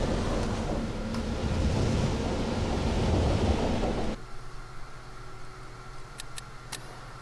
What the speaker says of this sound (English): The wind pushed me off that time.